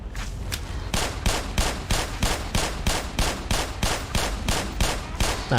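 Rapid, sustained automatic gunfire from the video game Black Mesa, loud evenly spaced bursts repeating steadily without pause.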